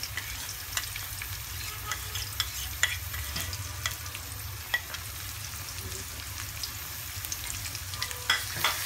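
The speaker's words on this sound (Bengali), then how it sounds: "আমি নাড়াচাড়া করছি" Beef lung curry with onion, garlic paste, cumin, turmeric and coriander powder is stirred in a pan, a steady close sizzle of frying with scattered scraping clicks of the spoon throughout, no voices.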